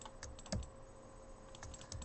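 A few separate key taps on a computer keyboard during 3D modeling work, crisp close clicks spaced out over about two seconds, with no voice.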